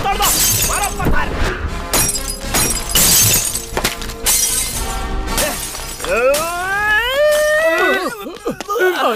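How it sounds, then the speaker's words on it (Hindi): In a film scene, thrown stones smash glass and other objects in a run of loud, sharp shattering crashes, with people shouting and crying out over and between the breaks. "तोड़ो तोड़ो, सब तोड़ दो, मारो पत्थर।"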